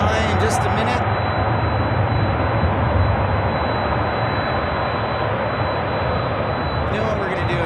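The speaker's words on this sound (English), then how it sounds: "So we have a 767 taxiing by in just a minute." A Boeing 767 jet taxiing at Memphis International Airport, its engines giving a loud, steady broadband roar that fills the whole stretch, with brief higher hiss near the start and end.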